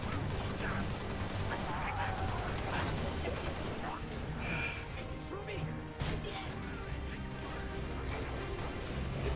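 A grenade explodes amid bursts of gunfire in the Halo video game, with sharp crashes and scattered shots throughout and players talking over the action.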